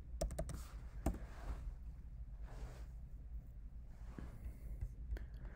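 Scattered soft clicks of typing on a computer keyboard, a quick burst of keystrokes at the start followed by a few isolated taps, faint and close against a quiet room hiss.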